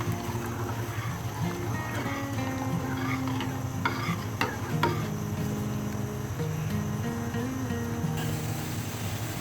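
Scraping and clinking of a spoon stirring chicken vegetable soup with corn and mushroom in a pot, with a gentle bubbling sizzle underneath; no talking.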